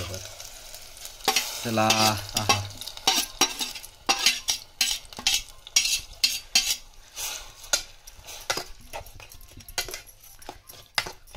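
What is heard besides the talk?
stirring jaggery, cucumber and ghee mixture in a pot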